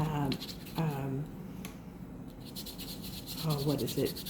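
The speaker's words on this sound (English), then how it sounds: "I'm just going to rub the piece of chalk over the tag where I'm going to be" A piece of chalk rubbed over a Dollar Tree Christmas paper tag makes a soft, dry scratching under close talking, with the gritty rubbing most exposed in a short pause between the words.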